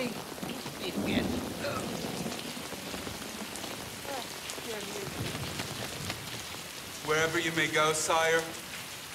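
Steady rain falls throughout, a dense hiss with faint rumbles beneath, while voices speak over it, one rising to a sung or called phrase near the end.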